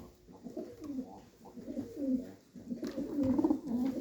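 Pigeons coo in a loft, several low rolling coos overlapping at close range, steady and moderately loud with no talk.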